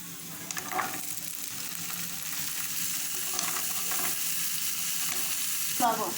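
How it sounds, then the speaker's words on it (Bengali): Washed potatoes fry with onion in a hot pan, giving a steady close sizzle with occasional scraping and clinking from stirring. A sharper rattle comes near the end. "এখন আমি দিয়ে দিচ্ছি ধুয়ে রাখা সে আলু।"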